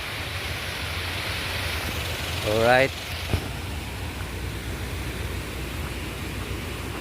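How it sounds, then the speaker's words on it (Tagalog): Situbo Falls in Tampilisan, Zamboanga del Norte, runs high on a rainy day, a steady broadband rush of falling water that fills the whole clip. A person speaks briefly over it, and there is a short swooping noise partway through. "Situbo Falls, Tampilisan, Zamboanga del Norte"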